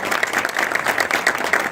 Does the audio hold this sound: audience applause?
yes